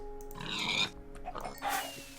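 A pig in a video game grunts and squeals in short bursts, a few snorting oinks over a faint steady background hum.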